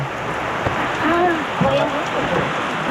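Heavy rain hisses steadily on a camper van roof shelter while a voice speaks faintly over it, the downpour dominating the whole short stretch.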